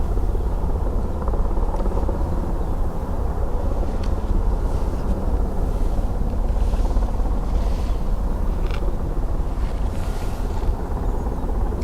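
Rescue helicopter at Dublin Airport, heard at a distance: a steady whirring rotor drone with faint periodic thumps, constant and moderately loud against wind noise, with no talking.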